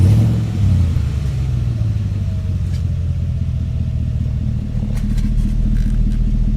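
A V8 Chevrolet Colorado with a titanium exhaust runs close by, giving a steady, loud, deep engine rumble throughout with little change in pitch.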